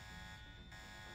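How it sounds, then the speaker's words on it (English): A continuous buzzing alarm drones in the video game Deus Ex, steady and unbroken for the whole moment, with no talk over it. "Oh, that set off an alarm."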